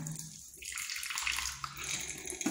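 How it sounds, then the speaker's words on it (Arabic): Tap water runs and splashes into a cupped right hand for rinsing the mouth during ablution, a steady close wash of running water that swells and continues throughout without talk. "المضمضة، بحط المي بإيده اليمين، بتمضمض 3 مرات"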